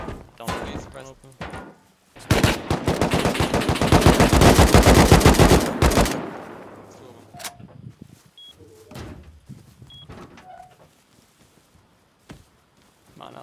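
Suppressed AK rifle fire in the video game Rust comes as a loud, rapid sustained burst lasting a few seconds, with scattered game thuds and faint players talking around it.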